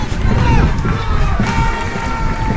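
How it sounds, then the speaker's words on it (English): Loud crowd noise with cheering and clapping for the Royal Barbados Police Force at the 2015 Barbados Independence Day Parade, a dense surging roar with voices throughout. "the Royal Barbados Police Force receiving applause"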